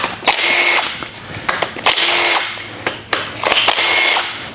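A power tool, likely an impact driver or ratchet, runs in three bursts, removing the four 10mm bolts that hold the oil pump to the front of the block on a GM 5.3 engine during an overhaul. Each burst is loud and close, with short pauses between.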